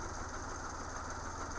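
A 1985-86 Chevrolet Sprint with a carbureted engine and manual transmission idles at about 750 RPM, a steady low rumble with no other sounds.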